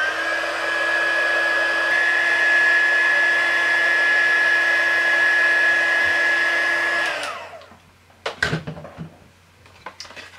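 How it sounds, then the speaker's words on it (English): A handheld heat tool blows steadily to set embossing powder on a greeting card, a loud whirring hum with a high whine for about seven seconds before it winds down, followed by a few close knocks and clatters. "now I'm going to use my heat tool to heat it up and heat set all"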